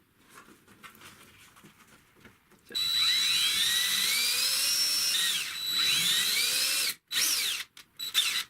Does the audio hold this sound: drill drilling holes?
yes